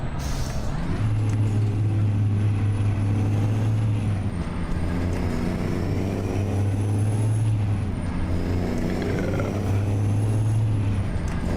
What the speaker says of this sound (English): The roar of the engine instead of the roar of the crowd.